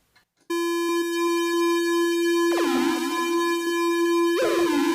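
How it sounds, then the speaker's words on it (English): A sustained buzzy square-wave tone runs through an Echo Station analog delay, with swirling, smeared echoes swelling in and repeating, giving a warbly, retro texture. "putting it through the Echo Station delay sounds like this."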